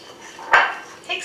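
A fork clinks against a pie pan or bowl while mixing crust crumbs with melted butter, one sharp scrape-clatter standing out near and close, then a lighter tap, with no talk.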